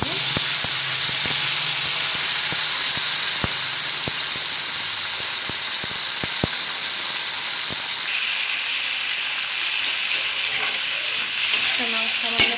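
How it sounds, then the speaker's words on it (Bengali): Dried fish (shutki) frying in a hot pan, with a loud continuous hissing sizzle and sharp crackling pops throughout, the tone shifting slightly partway through, close up. "এবার শুটকিটা ভাজবো দিয়ে দেবো শুটকি"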